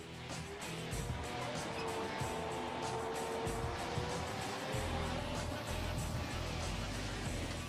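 A Bradley armored fighting vehicle is driven, its engine giving off a constant low, rumbling drone. The sound is faint and steady throughout, likely with a voice talking over it.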